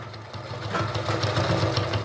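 A sewing machine runs without thread, stitching through buckram alongside embroidery on a neckline, a steady close rapid mechanical whir and chatter throughout with no talking.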